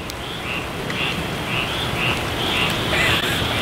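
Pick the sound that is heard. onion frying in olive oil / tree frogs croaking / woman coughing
tree frogs croaking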